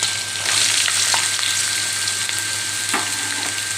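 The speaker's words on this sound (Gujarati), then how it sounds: "લીલા મરચાં થોડા ચડી જાય પછી આપણે બટેટા નાખી દેવાના છે" Green chillies and potatoes fry for sabudana khichdi with a steady, dense sizzle close by, broken only by a few faint scrapes of stirring; no one speaks.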